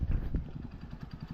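A motorcycle engine arrives with a low, close rumble that pulses unevenly and steadily throughout.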